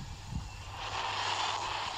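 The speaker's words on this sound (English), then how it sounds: "There's a jet." A jet aircraft in the video game Kaiju Universe roars past with a broad, steady engine rumble that swells slightly partway through and holds at a moderate, even level.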